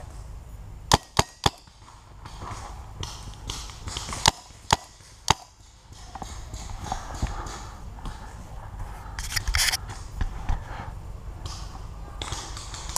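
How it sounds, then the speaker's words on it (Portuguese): Paintball gun shots fired during an outdoor paintball game, a few sharp isolated pops spaced apart early on, followed by rustling movement and background noise. "Eu vou dar três tiros, depois você vai."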